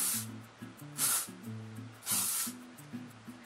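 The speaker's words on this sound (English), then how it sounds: "So I'm going to pop this in my hair and just spray it through while lifting the hair for maximum volume." Two distinct bursts of L'Oreal Elnett Satin hairspray misted into lifted hair, each a loud airy hiss lasting about half a second, heard close over a soft melodic background.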